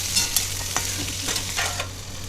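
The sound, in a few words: stirring potatoes and long beans in a frying pan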